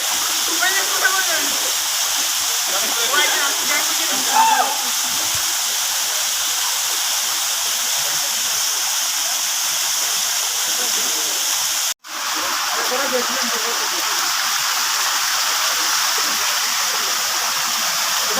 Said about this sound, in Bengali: দুই পাহাড়ের মাঝখানে ওই ঝর্ণা বেরিয়ে চলছে